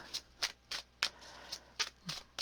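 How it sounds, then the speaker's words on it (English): Tarot cards being shuffled in quick, crisp bursts, about eight riffling swipes in a steady rhythm, close up with no voices. "I'm still shuffling."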